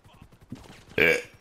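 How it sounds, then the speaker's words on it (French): A single loud, voiced burp after drinking whisky erupts near the end, close and brief, following quieter low clicks and murmurs. "ça refait roter le whisky, je suis désolé"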